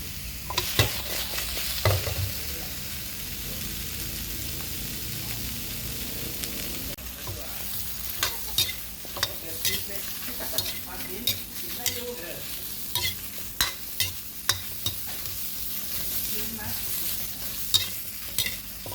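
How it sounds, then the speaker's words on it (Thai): Dried chilies are dry-roasted in a pan, with a soft, steady background hiss. A spatula scrapes and clacks against the pan in frequent, irregular strokes close by. "ใส่พริกแห้งลงไปคั่วด้วยเลยครับ"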